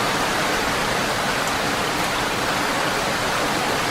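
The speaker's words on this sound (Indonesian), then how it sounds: "Tidak beberapa lama, hujan pun turun dengan derasnya." Heavy rain pours as a steady, dense hiss throughout, a sound effect in a radio drama, loud and unbroken with no voices.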